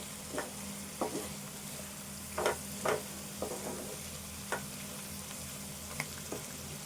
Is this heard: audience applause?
no